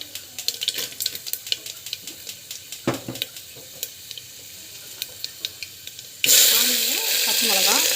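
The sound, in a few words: chana dal frying in hot oil with mustard and cumin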